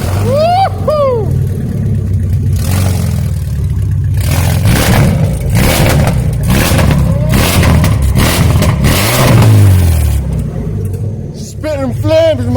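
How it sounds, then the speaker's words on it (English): A BMW E46 with its exhaust removed revs hard and loud, with rough, raw engine roar surging through several bursts up close, while a person whoops and shouts over it. "how the Beamer sounds without the fucking exhaust out together"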